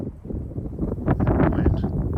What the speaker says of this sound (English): And wind.